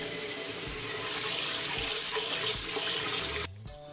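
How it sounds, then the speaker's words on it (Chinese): Rice being washed under a running kitchen faucet, a steady broadband rush of water splashing into a sink that stops abruptly near the end, with no talking. "将米先洗一下。"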